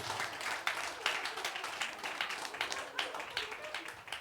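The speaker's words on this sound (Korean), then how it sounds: "박수 한번 해주세요" Audience applause in a church service, a moderately faint but steady patter of many hands clapping for a few seconds with no speech over it.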